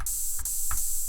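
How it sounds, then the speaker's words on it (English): Cashmere Open Hat 16 open hi-hat sample plays as a bright sustained hiss, fairly faint, with soft ticking accents repeating about every third of a second and no talking. "we've got Cashmere Open Hat 16."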